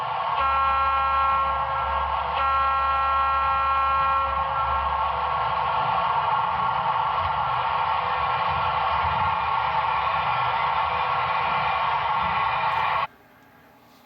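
A steady, loud multi-tone air horn from an HO scale model Milwaukee S3 #261 locomotive blares continuously for about thirteen seconds over a low rumbling engine drone, then cuts off abruptly to near silence.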